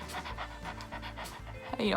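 A teacher imitates a panting dog with quick, rhythmic breathy pants close to the microphone, followed by a rising squeaky vocal sound at the end.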